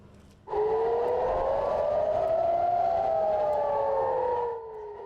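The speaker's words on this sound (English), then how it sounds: "sirens blared and smoke billowed near Israel's northern border with Lebanon" Several air-raid sirens near Israel's northern border with Lebanon blare at once, rising and falling in overlapping wails that start abruptly and hold steady, loud and distant-sounding, then fade slightly.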